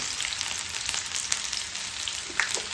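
Steady oil sizzle of chopped chili and garlic frying in an iron wok, a continuous crackling hiss with a few sharper pops.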